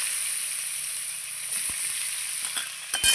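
Ash gourd pieces frying in a pan with chilli for a Bengali ghonto, a steady bright sizzle throughout with a few sharp clicks of stirring near the end.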